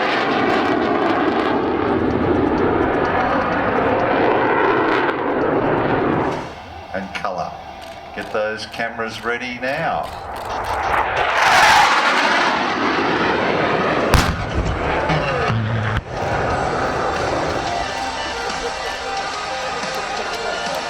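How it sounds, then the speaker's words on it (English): A RAAF BAE Hawk jet trainer, modified to T2 standard, roars loudly and continuously through an airshow display at Wings Over Illawarra, with a rising rush of engine noise partway through, under an announcer talking over a PA. "Ladies and gentlemen, the RAAF Hawk"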